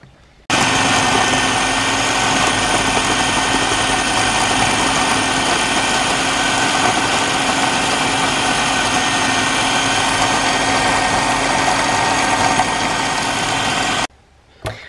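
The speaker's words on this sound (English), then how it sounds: "all I'm going to do is pop all this in my food processor and zap it" A food processor blitzing raw cauliflower into rice, a loud steady motor whirr running for about fourteen seconds without a break before cutting off.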